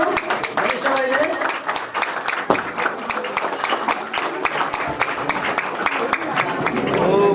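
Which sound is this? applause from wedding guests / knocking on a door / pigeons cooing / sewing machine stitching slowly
applause from wedding guests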